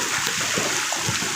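Rushing floodwater flows strongly through a street in Montalban, Rizal during Typhoon Carina, a steady, churning wash of water heard up close for a moment.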